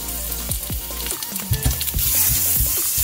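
A bay leaf fries in hot oil alongside ginger and garlic, a close, steady crackling sizzle with quick popping spatters throughout the short stretch, no talking.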